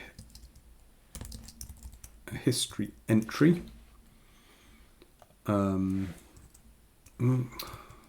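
Computer keyboard typing during a live coding session, heard as scattered bursts of quick clicks mixed in with someone talking close to the microphone.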